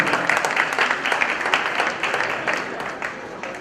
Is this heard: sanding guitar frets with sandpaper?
no